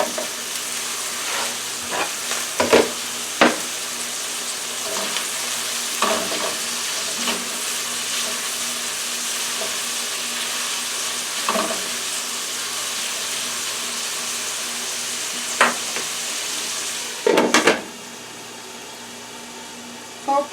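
Orange marmalade chicken with onions and peppers sizzles steadily in a pan, with a constant crackling hiss broken by occasional sharper pops and stirring clatters, heard alone at close range.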